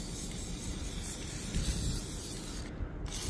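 An aerosol lubricant sprays in steady hissing bursts into the hinge mechanism of a car's convertible top, close and continuous with no talk.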